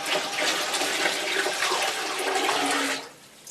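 A gallon of water pours into turkey brine in a steady, close, loud gushing stream for about three seconds, then stops abruptly.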